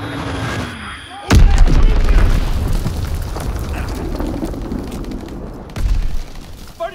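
Bomb blasts in the World War II shooter game Call of Duty: WWII, one sudden loud boom followed by a long rumbling roar, then a second swell of blast noise near the end, amid battlefield sounds and in-game voices.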